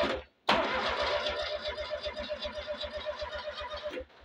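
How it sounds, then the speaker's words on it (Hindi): Generator engine cranked by its self-starter motor, a steady fast rhythmic chugging that runs about three and a half seconds after a brief silence, fairly loud and close with no talk over it. "ये देखिए यहाँ से स्टार्टर को घुमाते हैं"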